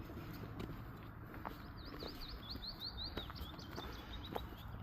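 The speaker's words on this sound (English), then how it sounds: "I like that bird." Birdsong along the Leeds Liverpool canal near Huncoat: a series of bright, quick chirping phrases repeating in the middle distance over steady outdoor ambience and soft footsteps.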